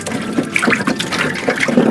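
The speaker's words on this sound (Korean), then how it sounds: "물에다 지금 담가서 흙을 다 제거하고" Fresh ginger is rinsed and rubbed by hand in water to remove soil, giving close, steady sloshing and splashing with small irregular drips.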